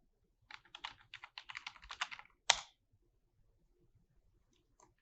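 Quick bursts of typing on a computer keyboard while entering a folder name, a rapid run of close, crisp key clicks ending in one louder keystroke, then near silence with a few faint taps.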